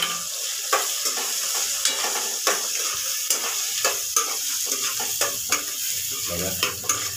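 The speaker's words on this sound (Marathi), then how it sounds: "कांदा फ्राय करूया पण आता" Onion fries with turmeric and peanuts in a hot pan, a constant sizzle punctuated by regular, evenly spaced scraping stirs about every half second, close and fairly loud with no voices.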